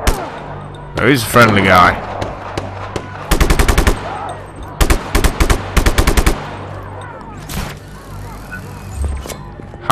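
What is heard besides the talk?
gunfire from bullets in the video game Just Cause 3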